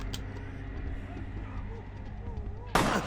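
A single loud, sharp gunshot goes off near the end of a stretch of low ambient game hum, fired by the player in Vampire: The Masquerade – Bloodlines.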